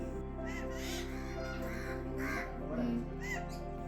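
A pet crow caws in a pet shop, several harsh calls in quick succession, close and fairly loud over a steady low hum from the shop.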